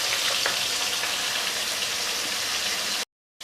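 Fish sizzles and crackles steadily in a frying pan over a medium gas flame, a dense continuous hiss close up with no voices, cutting out briefly near the end.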